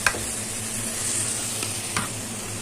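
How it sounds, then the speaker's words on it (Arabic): Rice being stirred in a pot, with soft scraping and a steady sizzle beneath it, plus a couple of brief spoon knocks. "وانا بفضل اقلب لغايه ما الرز ينشف"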